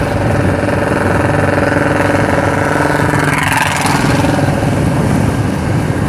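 A small super bike motorcycle engine runs steadily, a loud, close, even drone with constant vibration and no talking.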